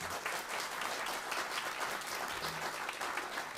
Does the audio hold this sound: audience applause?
yes